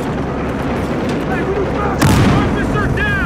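Frag grenade explosion in the video game Battlefield Hardline, a sudden loud blast partway through a noisy gunfight, followed by rumbling debris and ringing tones.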